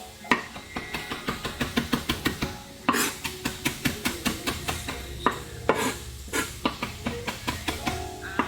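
Knife chopping parsley on a cutting board: quick, rhythmic thuds in steady bursts, close and crisp, with a few heavier strikes and brief pauses between runs.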